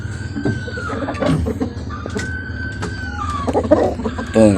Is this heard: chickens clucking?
yes